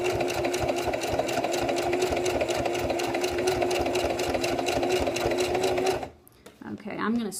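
A sewing machine back-stitching over thick, bulky rag quilt columns, running in a fast steady mechanical chatter up close for about six seconds before stopping, followed by brief faint handling noises.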